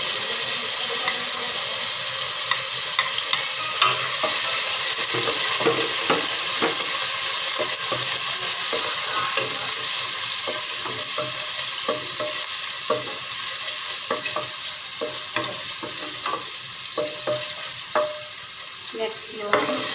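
Garlic sautéing in olive oil in a pan for kinamatisang baboy, a steady loud sizzle and frying hiss running throughout with occasional stirring clinks and scrapes, no talking.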